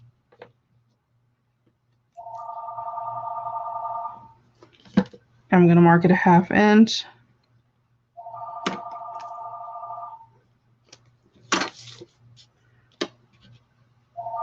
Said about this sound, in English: Don't you guys just love when your phone rings in the middle of a video?